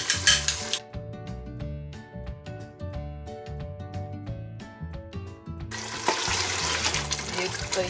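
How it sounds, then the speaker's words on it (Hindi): About two cups of water go into a pot of meat for a Mughlai qorma, a splashy rush at the start, then clinks and bubbling sizzle, and a longer steady pour near the end. "इसमें 2 कप पानी डाल के गोश्त को गलने के लिए रख देंगे"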